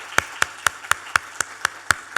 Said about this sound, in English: Audience, please give him a round of applause.